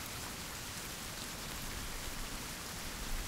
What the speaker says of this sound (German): Achso, das ist die Regentropfen.